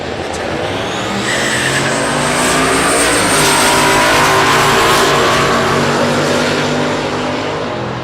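A loud, close drag race car at Texas Motorplex, Mark Grote's Gremlin Turbo LS, roars past in a sustained, rising engine howl with a whine on top, filling the full eight seconds without any talking.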